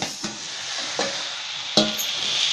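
Fenugreek greens with wet coconut sizzling in a pan over medium heat, a steady frying hiss broken by a few sharp scraping strokes as the greens are stirred, close and alone.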